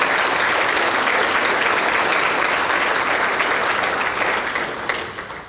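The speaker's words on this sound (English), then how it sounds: "Can we please give the MCCTC and all of our sponsors a huge round of applause?" An audience at an evening regional chamber of commerce event gives a loud, full round of applause. The dense clapping from many hands holds steady, then thins and fades over the final second.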